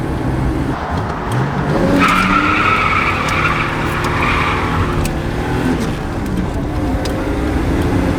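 Tires skid and squeal loudly as a car with a mini spool differential drifts, a sustained screech rising from about two seconds and fading near five, over a steady engine roar.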